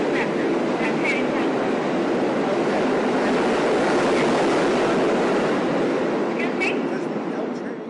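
Busy underground ambience at the 66th Street Lincoln Center subway station, a steady loud rumble and hiss of trains and crowd noise filling the space with faint higher squeals and indistinct voices mixed in.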